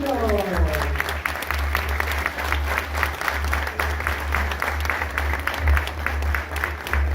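An audience at a rock anniversary event applauds a band with sustained, dense clapping from a nearby crowd.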